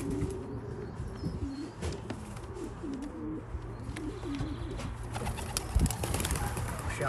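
Young racing pigeons in a loft coo continuously, with soft overlapping warbling calls, light chirps and a brief flutter of wings, heard nearby and fairly loud, with no talking.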